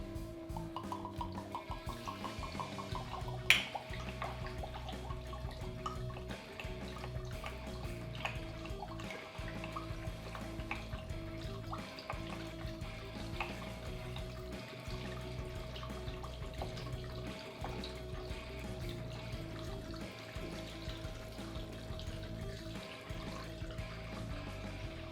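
Liquid poured steadily into a container while preparing arranged rum with sugar, a continuous soft trickling and splashing that runs for the whole stretch at low level, with no talk.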